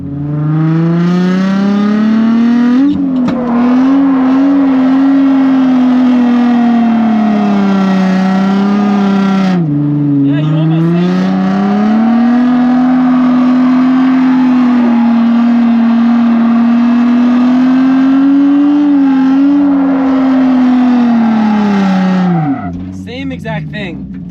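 A Nissan R33 GTR launches with its rear wheels spinning: a loud, sustained high engine drone holds a steady pitch for about twenty seconds, dips briefly midway, then cuts off near the end.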